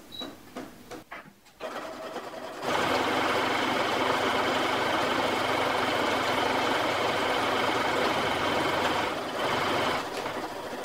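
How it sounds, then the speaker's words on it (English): Sewing machine running steadily as it top stitches along the folded edge of a clear vinyl tote bag, loud and continuous after a brief quieter start, with no talking. "I'll top stitch down the other folded edge as well."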